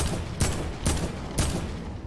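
Three heavy gunshots at evenly spaced intervals, fired at a supply drop in a video game, loud and close over a steady background rumble.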